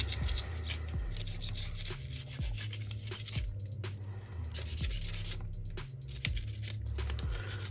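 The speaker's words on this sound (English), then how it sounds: "take your nylon brush and start scraping all the carbon" A nylon brush scrubs carbon off Glock 43X pistol parts. Close, brisk, repeated scratchy strokes come in a steady back-and-forth rhythm with short pauses between bursts.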